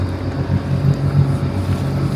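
A water motorcycle idles after a key start, a steady low engine rumble close by, slightly wavering, with wind buffeting the microphone.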